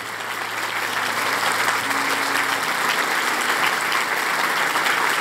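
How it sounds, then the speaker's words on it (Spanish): A church congregation in Mexico City applauding during a service, sustained, dense clapping from many hands that holds steady for several seconds with no talk over it. "Fuerte ese aplauso a Jesús."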